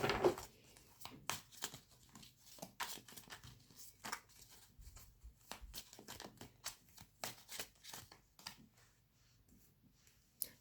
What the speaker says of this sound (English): Right, let's shuffle these cards.